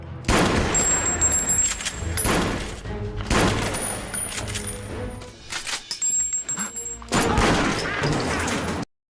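Bursts of gunfire in a revenge gangster film scene, loud rapid volleys of shots and booms in several clusters, with metallic clinks and thuds between them and a sudden cut to silence at the end.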